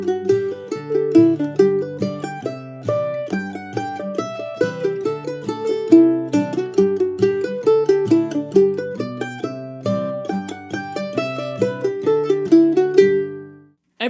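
Mandolin plays the fiddle tune Off to California straight as a reel, a steady run of bright picked notes with an even driving rhythm, close and solo with no voices.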